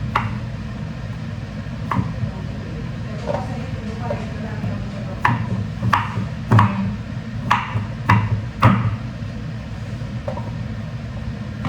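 A knife slices pumpkin against a board in irregular sharp knocks, clustered in the middle, over a steady background hum.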